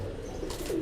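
A pigeon gives a short, soft coo at close range, a brief low throaty note rising near the end of under a second.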